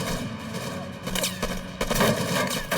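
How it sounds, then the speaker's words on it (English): SWAT team gunfire during a shootout with gunmen, fairly faint bursts of shots and crackling volleys mixed with background noise over a few seconds. "The SWAT members open fire."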